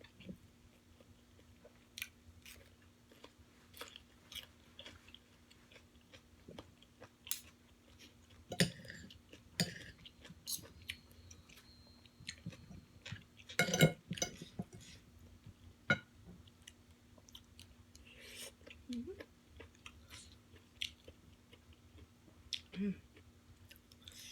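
Close, quiet mouth noises of someone eating mok no mai, Lao-style steamed bamboo shoot, with scattered soft chewing clicks and bites over a faint steady hum, plus occasional low talk.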